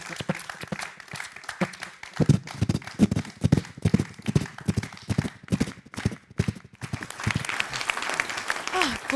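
On a comedy stage, a performer imitates a galloping horse with rhythmic clip-clop beats, loud and evenly spaced, and audience applause rises toward the end.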